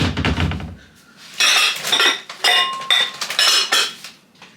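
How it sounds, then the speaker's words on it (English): A glass Pyrex bowl is handled in a kitchen, with a string of close, bright clinks and knocks against other dishes and utensils in uneven bursts. "I've got my glass Pyrex bowl"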